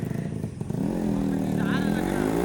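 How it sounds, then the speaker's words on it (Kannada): A motorcycle with a blown oil seal runs steadily close by, its engine note rising and holding as it comes in for a wheelie, with faint voices in the background. "ಈಗ ಬರುತ್ತೆ ನೋಡಿ ವೀಲಿ ಎತ್ತಕ್ಕೆ ಗಾಡಿ"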